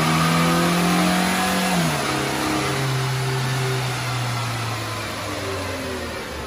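A 2014 VW MK6 Jetta S 2.0L engine pulling hard on a dyno in third gear, a loud close drone climbing steadily in pitch, a brief dip as the transmission shifts, then rising again.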